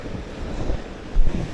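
Strong sea waves churning at a breakwater, a loud continuous roar with a heavier surge near the end, mixed with wind rumbling across the microphone.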